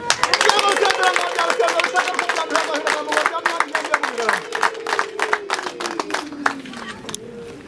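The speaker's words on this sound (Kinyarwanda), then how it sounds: "Ababyeyi basubire impundu n'amashi." Parents at a Rwandan wedding dowry ceremony ululate and clap together, a sustained wavering high cry over rhythmic hand claps, with a voice talking over the crowd noise.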